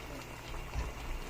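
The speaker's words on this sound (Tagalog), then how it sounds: "kulo na siya" Adobong paksiw of tamban fish simmers in a pot, a soft, low bubbling burble that stays faint and steady for a brief moment.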